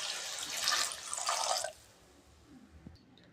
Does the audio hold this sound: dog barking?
no